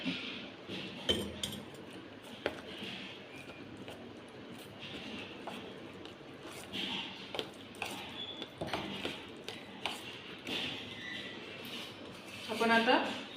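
Bhaji batter stirred with water in a bowl, with scattered clinks and taps of a spoon against the dish and irregular scraping, a louder flurry near the end, while a person talks throughout.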